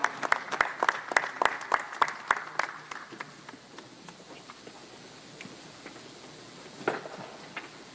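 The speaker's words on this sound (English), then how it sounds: "So we have to give Daniel Jacobs a round of applause for putting on an amazing fight" Audience applause for boxer Daniel Jacobs after a fight: a burst of sharp claps over the first couple of seconds, thinning out and fading into a softer murmur, with one more clap near the end.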